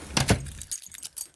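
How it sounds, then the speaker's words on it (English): Keys jangling close by in short metallic bursts, a dense rattle up front and then scattered lighter jingles, with no one speaking. "My keys are too loud."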